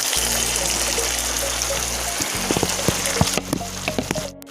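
Marinated chicken pieces dropped into a hot pan for dhaba-style chicken curry set off a loud, steady sizzle and crackle that fills the clip, with occasional spatters and stirring knocks near the end.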